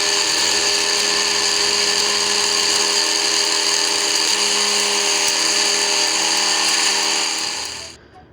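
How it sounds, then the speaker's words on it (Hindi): A small electric grinder whirs steadily at high speed as it grinds green tea ingredients, a loud, unbroken motor whine close by that winds down and stops at the end. "तो इसको हम जो है कि ग्राइंडर मशीन पे ग्राइंड कर लेंगे"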